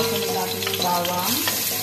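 Garlic sizzles and crackles in a hot pan for rice porridge while being stirred, a close, steady frying hiss with light scraping, no voices.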